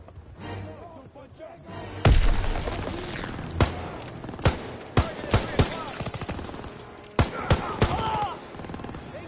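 Call of Duty WW2 combat: a heavy blast hits after a quieter start, followed by scattered loud gunshots and sharp impacts spaced irregularly, with shouted voices mixed in.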